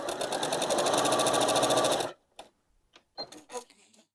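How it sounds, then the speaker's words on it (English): A Janome sewing machine fitted with a quilting guide bar runs in a loud, steady, rapid stitching whir for about two seconds, then stops abruptly, followed by a few light clicks and handling taps. "put my foot down, and begin stitching."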